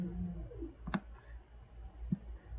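Two sharp computer mouse clicks sound about a second apart, quiet and close over faint room hum, with no talk.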